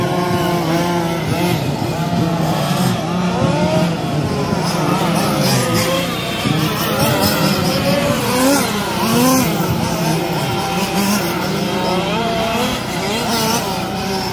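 2wd and 4wd 1/5 scale RC touring cars race through qualifiers at a Wagner Park track, their engines whining and buzzing steadily nearby, layered with continuous crowd and commentary chatter.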